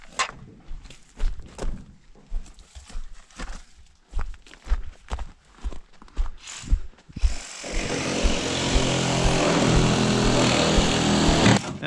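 A power tool cuts through aluminum roofing on a hobbit house roof, a loud continuous grinding whine starting partway through after several seconds of scattered knocks and footsteps.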